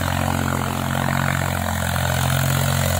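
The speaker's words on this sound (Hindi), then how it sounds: "ये देखो कितनी चढ़ाई पर जा रहा ट्रैक्टर।" A Mahindra 265 DI tractor from 2021 hauls a heavily loaded trolley up a steep slope, its diesel engine giving a loud, steady, close droning hum with a constant low throb and no pause.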